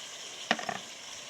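Fried potato and pointed gourd tipped into a pan of beef frying in its own released oil, giving a faint low sizzle with one brief burst of stirring and scraping.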